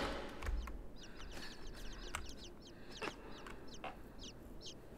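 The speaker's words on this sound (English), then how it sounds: "I hear chicks again." Chickens cluck in the video game Inside, a string of short, repeated calls that sound faint and somewhat distant over a low background hum.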